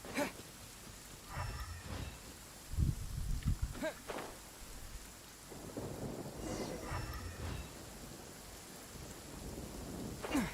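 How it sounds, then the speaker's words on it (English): Rain and thunder in the video game Genshin Impact, with steady rain noise, low rumbling thunder bursts near the start and middle, and faint crackles throughout. "Thunder and lightning can be quite frightening"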